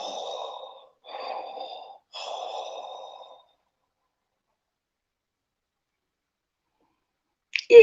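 A storyteller's voice imitates snoring for a nap: three drawn-out, breathy snores, close and steady, each separated by a short pause, followed by silence and a brief knock at the end.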